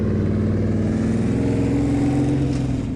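LS-engined sandrail held on a dyno, its V8 roaring loud and steady close by with a rough, throbbing rumble that rises slightly in pitch.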